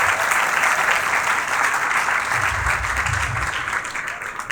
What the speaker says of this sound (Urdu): اب زوردار تالیاں جوشوا کے لیے بجا سکتے ہیں